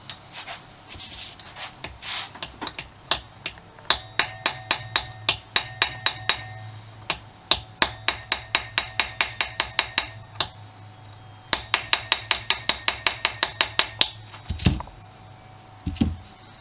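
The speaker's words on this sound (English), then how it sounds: "I am going to use my faithful brass rod and see if we can just tap the left hand cover away from the right hand cover" A brass rod tapping apart the engine case covers of a Honda CB125S motorcycle during a restoration, bursts of quick, sharp metallic knocks in rapid rows, loud and close, with brief pauses between runs.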